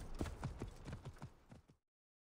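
A horse's hooves clip-clop in a quick, even rhythm of about eight hoofbeats, close and fairly quiet, then stop abruptly.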